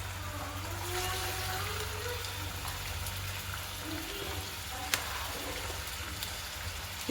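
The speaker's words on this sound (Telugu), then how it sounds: "చికెన్ అంతా ఈ ఆయిల్లో ఫ్రై అయిపోవాలండి." Chicken pieces for homemade pickle frying in hot oil over a low flame, a dense continuous hiss and bubbling sizzle that stays steady throughout, with one small tap near the end.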